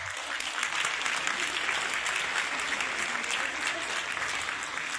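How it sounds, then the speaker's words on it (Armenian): An audience at an award ceremony claps continuously, a thick wash of many hands at an even level after a brief quieter start, with faint voices mixed in. "Ծափահարենք աշխարհով մեկ ցնված մեր բոլոր հայրենակիցներին"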